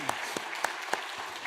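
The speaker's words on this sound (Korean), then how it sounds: "박수로 환영하겠습니다" Applause from a church congregation welcoming new visitors at a Sunday service, heard as a brief spell of scattered, sparse claps with a few sharper individual hits over a soft wash of clapping.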